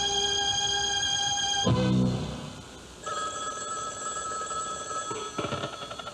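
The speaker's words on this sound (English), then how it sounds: "It can get costly if the phone rings and you're not there to answer it." A telephone bell rings in a radio advertisement, a bright repeated ring with a short pause between bursts, heard alone without talk.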